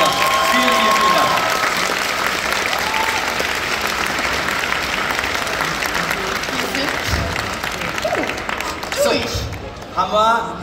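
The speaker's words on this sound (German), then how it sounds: "Nochmal einen riesengroßen Applaus hier" Loud, sustained applause from an audience at a cosplay contest during a fan convention in Bremen, with cheering and voices mixed into the clapping throughout and a brief voice near the end.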